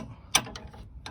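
Wrench working on a sway bar link of a GMC Yukon, giving a sharp metallic ratchet click followed by a couple of fainter clicks, close by and brief, with no speech.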